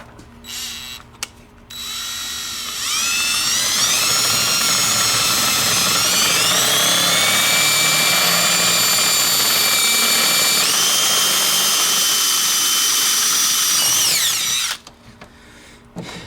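A power drill enlarging a hole in a truck switch panel whines loudly and steadily for about twelve seconds, its pitch rising and shifting as it bites, then winds down abruptly.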